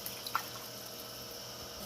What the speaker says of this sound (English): I'm going to add a little more water.